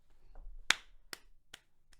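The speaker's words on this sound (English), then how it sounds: "That was a very like not enthusiastic clap." One lone, half-hearted hand clap stands out sharply, followed by a few softer taps or snaps spaced out over the next second, with quiet room background and no talk.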